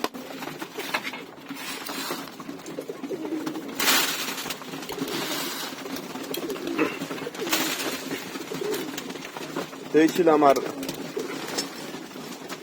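Locked-up flying pigeons coo softly and repeatedly in a coop, under a person talking nearby, with brief rustles and patters throughout.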